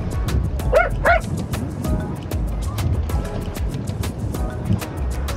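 Small dogs bark and yip a few times at a busy beach bathing spot, the sharp barks clustered early, with faint distant voices and wind-like background noise.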